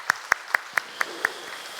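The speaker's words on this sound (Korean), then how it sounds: "하나님 앞에 영광 박수 올려드리겠습니다." Six sharp, evenly spaced claps ring out in a church during a harvest Thanksgiving Sunday service, a short rhythmic burst with no talking.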